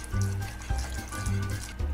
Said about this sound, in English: a dry red wine. Now we're gonna pour this in slowly